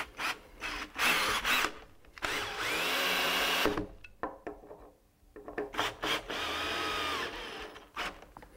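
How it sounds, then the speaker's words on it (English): Power drill driving screws into a log ceiling beam, heard as loud sustained whirring bursts separated by short pauses and lighter handling noises, close by with no talk. "Now I'll shoot some of these screws into the holes I drilled here."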